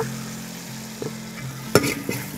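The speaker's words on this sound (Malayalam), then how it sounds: "നമുക്ക് ഇതിനകത്തോട്ട് കുറച്ച് കരിവേപ്പില ഇട്ട് കൊടുക്കാം" Curry leaves dropped into hot oil for a Kerala-style beef curry, a sudden loud crackling sizzle bursting up partway through over a steady low frying hiss and faint stirring clicks.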